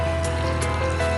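Water being poured from a cup over granulated sugar in a pan to make sugar syrup, a short steady trickle and fill lasting about a second.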